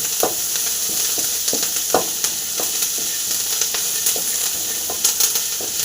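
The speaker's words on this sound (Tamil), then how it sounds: "நல்லா ஃப்ரை ஆகுது" Egg and curry leaf masala fries in a pan, a steady sizzle and hiss with scattered crackles and pops from start to finish and no voices.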